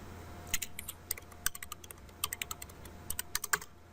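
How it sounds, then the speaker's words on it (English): Keys clatter on a computer keyboard while an IP address is entered into a Cisco ASA 5510 firewall. The taps come in quick irregular bursts, close and fairly quiet, over a steady low hum, with no voices. "And then we're going to type in the IP."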